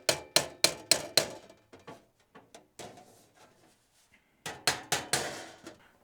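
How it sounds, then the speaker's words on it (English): A hammer taps out burrs on rusty body metal of a 1984 AE86 Corolla coupe: a quick run of five loud metallic raps, softer scattered knocks, then another rapid cluster of hits, all close. "we're just gonna tap out any of the burrs and things"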